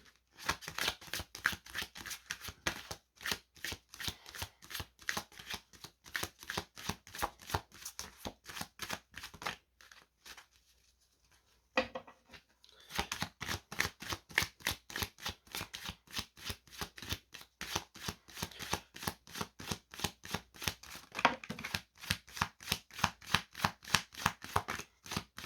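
Tarot cards shuffled in a steady run of crisp riffling flicks, close and fairly soft, with a brief pause near the middle before the rapid shuffling resumes.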